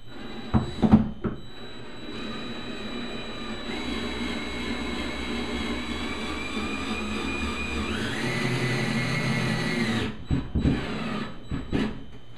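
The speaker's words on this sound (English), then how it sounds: "And hope that your drill can fit in there." A power drill drives drywall screws during a bathroom remodel where a medicine cabinet is being removed, its motor whining steadily for several seconds and rising in pitch near the end before cutting off, with no voices.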